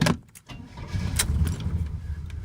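Engine of a cold 1971 Oldsmobile Cutlass starting up: a short cranking burst, then a low, rough rumble building into a steady idle, close by.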